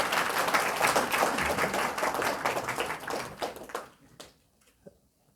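Audience applause greets exam rank holders as they are called onstage, dense clapping that thins out and fades after about four seconds, leaving a few scattered claps.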